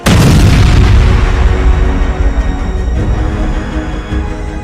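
A massive Israeli airstrike explosion in Dahieh, Beirut, booms at once, loud and deep, then rumbles and roars on for several seconds as the blast slowly settles.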